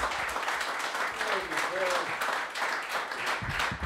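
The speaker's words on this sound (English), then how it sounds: "Give him a nice round of applause." Applause from a live comedy show audience welcoming a comedian onstage, a steady dense crowd clapping with some cheering and voices mixed in throughout.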